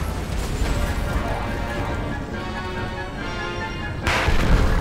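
Rapid gunfire and booming blasts from Gears of War as shots hit walls, a dense continuous barrage that swells louder near the end.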